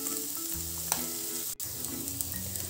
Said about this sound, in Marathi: इथं आपला कांदा हा ब्राऊन होत आहे